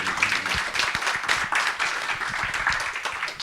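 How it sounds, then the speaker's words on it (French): Audience clapping at a climate change conference, a modest, steady patter of many hands in a hall, moderately close and continuing throughout. "On peut l'applaudir bien fort."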